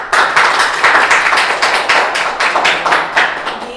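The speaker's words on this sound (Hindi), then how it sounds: "तो आप सब इनको खुशामदीद कहें अपनी तालियों से" An audience at a talk welcomes two photographers with applause: a small group claps in quick, fairly regular bursts, close and moderately loud, with no speech over it.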